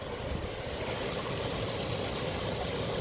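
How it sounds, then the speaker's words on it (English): Water flows steadily over a washed-out spot in the high desert during high-water season, a broad, unbroken rushing wash heard close up with no voices. "The water's flowing over"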